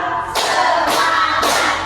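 Three crisp unison claps from a group of teachers in a counted clapping exercise at a school, evenly spaced about half a second apart and close, with a low hum behind.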